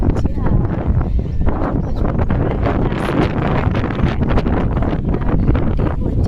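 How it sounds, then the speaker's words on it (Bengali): Strong wind over a river in the Sundarbans buffets the microphone in loud, constant gusts, with a rough rumbling roar outdoors. "প্রচুর হাওয়া দিচ্ছে"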